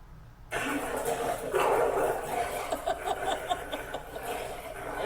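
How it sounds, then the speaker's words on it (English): Aggressive-sounding dog barks in a steady run of sharp, repeated barks, fairly close and loud, over a busy noisy background that continues throughout. "there's a very aggressive sounding dog that's going to come audio only first"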